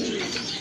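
A pair of Blacklace Satin pigeons in a loft, a soft, continuous close coo with no talk over it.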